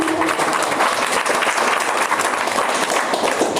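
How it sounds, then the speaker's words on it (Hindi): Loud, sustained audience applause fills a business seminar hall, dense steady clapping from a large crowd throughout with no pause. "तो एक बार जोरदार तालियां चाहूंगी सर के लिए।"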